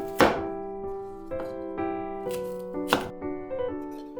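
Peeled sweet potatoes, a sweet chestnut-fleshed variety, are cut into rough chunks on a cutting board, giving a few sharp knife thunks spaced irregularly over a soft background tone.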